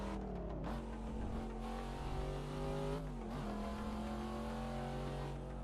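A Volvo car engine in the racing game Assetto Corsa revs and accelerates hard, with tones rising then dropping at gear shifts, loud and steady throughout with no talk.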